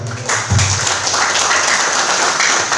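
A crowd at a village community meeting applauds a council member, steady dense clapping that holds loud and even for the whole stretch.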